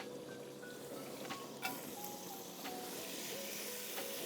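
Onions sizzle softly in olive oil in a pan, a quiet, steady frying hiss with faint crackles and a light clink partway through.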